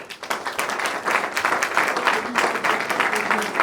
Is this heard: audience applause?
yes